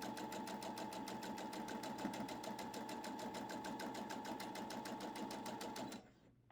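A sewing machine stitching a scant quarter-inch seam on a scrappy quilt block, running at a fast, even rhythmic hum and clatter for about six seconds before stopping abruptly.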